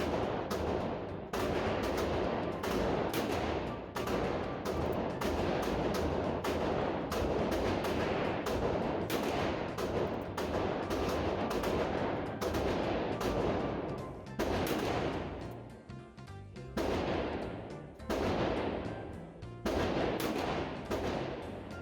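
Gunfire at an outdoor shooting range: many loud, sharp shots in quick irregular volleys, some overlapping, with brief pauses between strings.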